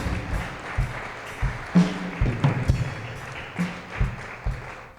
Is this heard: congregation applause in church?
yes